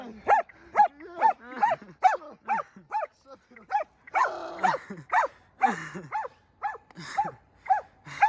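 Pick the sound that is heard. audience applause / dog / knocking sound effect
dog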